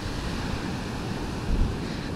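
Sea waves washing onto a beach in Goa, India, with clear water: a steady broadband wash of surf under wind noise on the microphone, a slightly louder surge swelling near the end, and no voices.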